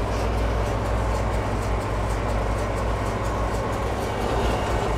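An MB Trac tractor engine under throttle, a loud, steady low rumble with a rough, pulsing drone held close by for the whole stretch.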